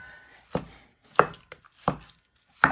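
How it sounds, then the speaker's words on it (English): Four sharp knife strikes on a cutting board chopping onions and peppers, spaced unevenly and close by, with quiet pauses between chops. "As I'm chopping up the onions and the peppers"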